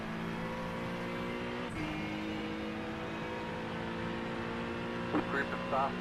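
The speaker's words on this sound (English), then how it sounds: "Group of fast cars approaching." Race cars approaching and passing in a sim racing game at Monza, a steady engine drone with a pitch shift as the field closes in, and faint higher whines near the end.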